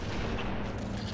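Covenant enemies open fire in Halo CE, a dense burst of game gunfire and blasts filling a short, steady moment.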